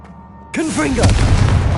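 Confringo explosive spell cast in Hogwarts Legacy, a sudden loud boom that bursts in and rumbles out over a second, heard right after a short spoken incantation.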